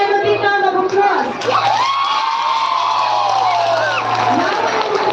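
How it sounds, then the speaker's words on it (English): Audience at a school week event cheers and whoops for competition winners, a loud steady crowd roar with shouts throughout and a steady hum underneath. "Please give them a big round of applause."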